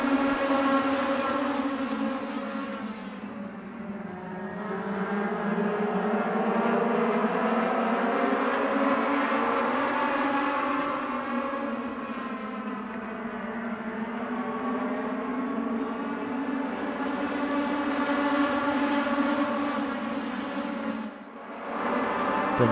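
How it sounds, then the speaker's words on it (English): Race cars accelerating out of the banked turn 4 at The Bullring, Las Vegas Motor Speedway, a loud sustained engine roar with rising and falling pitch as the pack passes, continuous throughout with a brief dip near the end. "RPMs beginning to rise as we hit the banking off corner number 4."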